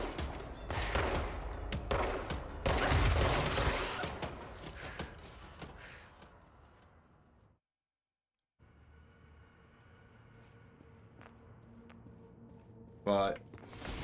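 Rapid gunfire in the video game Control: dense bursts of loud shots in the first seven seconds, then a brief silence, quieter game ambience and a single sharp burst near the end, with someone talking over it.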